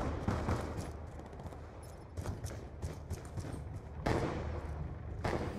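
Rapid bursts of automatic gunfire in Call of Duty: Black Ops 2 Gun Game, dense and continuous across the clip with louder flurries toward the end, game effects filling the background.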